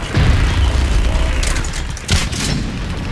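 Gunfire and explosions in the sci-fi shooter video game Mass Effect 3, a loud, dense barrage of booming shots with a sharp crashing blast near the end, close and continuous.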